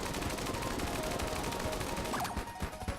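Rapid gunfire from the Gunzang gun in the video game Enter the Gungeon, a dense, continuous stream of loud shots with a brief rising tone near the end.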